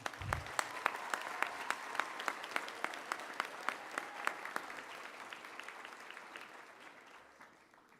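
A small crowd claps at a high school underclassmen awards ceremony, with sharp, evenly spaced claps that stand out over a soft wash of applause. The sound is distant and gradually fades away over several seconds.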